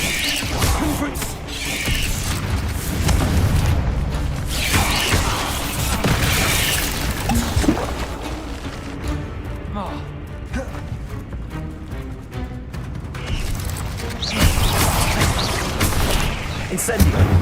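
Confringo explosion spells blasting in Hogwarts Legacy, a loud continuous barrage of booming, crackling impacts and mechanical clatter that layers over a raised voice.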